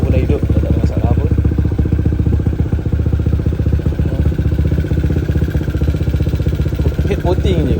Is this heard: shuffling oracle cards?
no